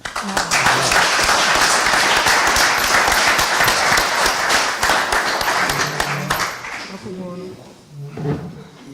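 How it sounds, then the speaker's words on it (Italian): Crowd applause after a poetry and cardiology talk in Italy, sustained loud clapping from many hands that fades out near the end, when a voice begins speaking. "l'applauso va a loro"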